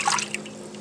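A rescue kitten is rinsed off in a tub of water. Close, soft dripping and trickling plays for under a second, with no voices.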